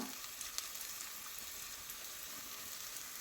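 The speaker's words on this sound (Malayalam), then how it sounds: "ഉള്ളി ഇവിടെ മൂത്ത് വരുമ്പോൾ ഒരു വറ്റൽമുളക് കട്ട് ചെയ്തെടുത്തിട്ടുള്ളതാണ്, അത് ഇട്ട് കൊടുക്കുന്നുണ്ട്" Sliced onion with cut dried red chilli frying in oil and ghee for a toor dal curry, a soft continuous sizzle with faint crackles, quiet and steady without talk.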